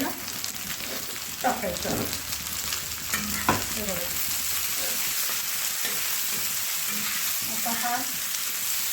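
Onion, green chili and finely chopped tomatoes frying in a pan for Maharashtrian chicken kharda, a steady hiss of sizzling throughout with a few stirring scrapes, while a person speaks intermittently over it.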